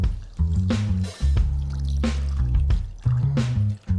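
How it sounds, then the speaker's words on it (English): Water poured into a pan of reduced egg curry masala with eggs added, heard as a few close splashy glugs and sizzles in bursts, fairly loud, with no talking. "Now into this we'll add some water."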